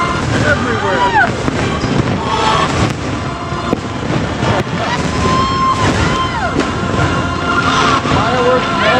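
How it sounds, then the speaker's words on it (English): Continuous crackling and popping of New Year's Eve fireworks all around at Disney's Magic Kingdom, with distant booms, whistles and voices mixed into a loud, busy scene. "Look at the fireworks all over the place."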